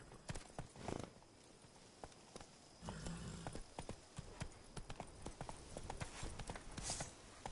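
Horse hooves clip-clopping at a steady walking rhythm in the video game Witcher, fairly close and soft, with occasional faint background sounds and brief voice-like bits.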